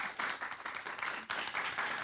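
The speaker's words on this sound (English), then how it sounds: "let's give a round of applause." Brisk applause from a conference audience, many hands clapping together in a dense, steady patter with a brief dip midway.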